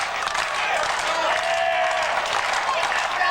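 A wrestling crowd cheers and claps for a wrestler being urged on, a dense, continuous roar of applause and shouting heard from within the arena at steady loudness.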